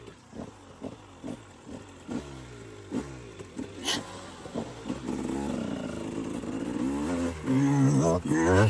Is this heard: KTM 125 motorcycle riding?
yes